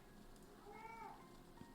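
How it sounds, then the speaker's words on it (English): A house cat gives a single short meow midway, faint and close, against a quiet room background. "you might hear my cat this whole day"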